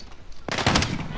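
Gunfire from a first-person shooter video game, including 725 shotguns: a sudden loud burst of shots erupts after a short muffled lead-in, dense and close.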